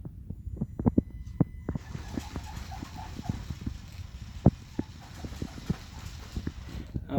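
A tiny SCX24 RC crawler tractor on metal tracks creeps slowly across a hard surface while pulling a die-cast model, its faint motor hum under a string of irregular soft clicks and knocks.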